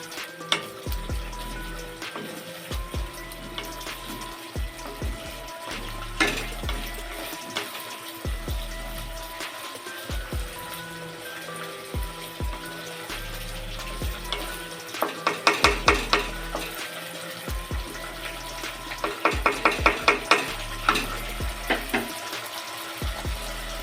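Masala stir-fried in oil in a pan for a small-shrimp fritter curry: a soft sizzle under frequent close scraping strokes of a spatula, growing into quicker, louder bursts of stirring, with no speech.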